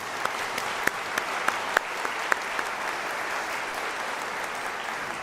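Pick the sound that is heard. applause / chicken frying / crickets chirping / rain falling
applause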